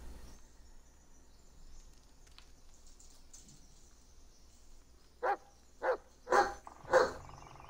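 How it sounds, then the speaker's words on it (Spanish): Dog barking in the Blair Witch video game, four sharp barks in quick succession near the end after a quiet stretch with faint background sounds. "Este es Bullet, tu perro, y tu mano derecha."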